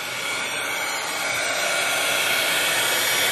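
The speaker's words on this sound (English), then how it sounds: "I am going to run my heat gun over this just a little bit" A heat gun blows steadily over a freshly painted tray, a loud, even rushing whoosh of hot air that runs alone for a few seconds.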